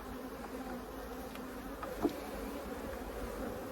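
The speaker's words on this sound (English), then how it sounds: "I'm just keeping my distance here because these bees aren't the nicest" Bees hum steadily around an opened hive, a continuous close buzzing drone at an even level with one brief louder pass near the middle.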